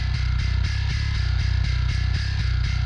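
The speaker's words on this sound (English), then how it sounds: "The bass guitar is the same plugin, but using this grind mode" Heavily distorted bass guitar played through a plugin in grind mode, a growling, gritty riff of short repeated low notes in a steady rhythm, loud and close with no other sounds.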